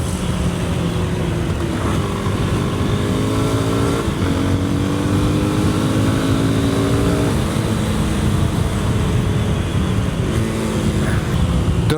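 An adventure motorcycle on a Trans Euro Trail route in the Albanian highlands accelerates hard through repeated gear changes. Its engine note climbs in steps under heavy wind roar, loud and close, and no one talks.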